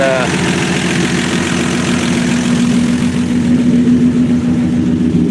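A 1965 Dodge Dart's 225 cubic inch slant-six engine idles steadily with a continuous low rumble and mechanical vibration, loud and close throughout.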